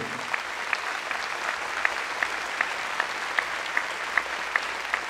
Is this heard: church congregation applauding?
yes